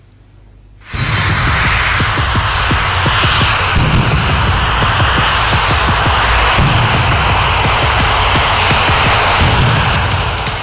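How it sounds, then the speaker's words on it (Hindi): Military aircraft engines roar steadily during mid-air refueling between two military planes, a loud continuous jet drone with a faint high whine, starting abruptly after a moment of quiet and holding throughout. "हवा में किसी उड़ते विमान में ईंधन भरना कोई आसान काम नहीं है।"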